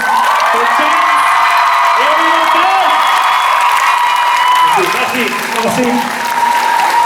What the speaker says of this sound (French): maintenant, on fait une salve d'applaudissements, s'il vous plaît